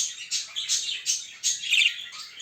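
Pet budgerigars chirp and twitter close by in a rapid series of bright, short, overlapping calls, overheated birds holding their wings raised.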